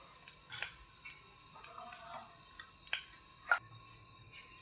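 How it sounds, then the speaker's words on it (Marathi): Mustard seeds crackle in hot oil for a tadka, the first step of a curry tempering; sparse, faint, sharp pops and ticks come at irregular intervals with no talking. "मोहरीचा तडका देऊ पहिल्यांदा."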